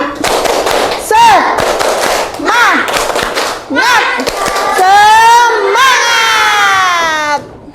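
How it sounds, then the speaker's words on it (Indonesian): Children in a classroom doing a rhythmic spirit clap, sharp bursts of clapping alternating with chanted, sing-song shouting voices, loud and close, ending in a long drawn-out group cheer. "Tepuk semangat"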